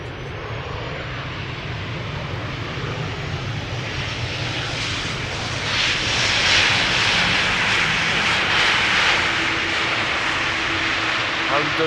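A Boeing 737-800 airliner, 17 years old, arriving at Amsterdam Schiphol after a flight from Olbia, its broad steady jet engine roar swelling louder midway as it passes near.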